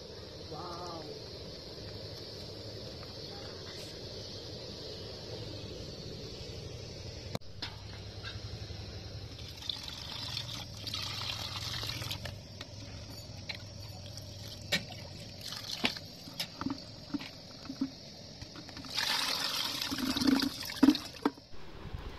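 Cooking oil poured into a pan in a home kitchen: a soft, steady liquid trickle and hiss that runs throughout, with a few light clatters and a brighter rush near the end, and faint voices in the background.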